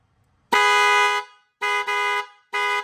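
A Mitsuba car horn sounds with its high and low tones together: one long blast, then a shorter one, then a third brief blast, loud and close against silence.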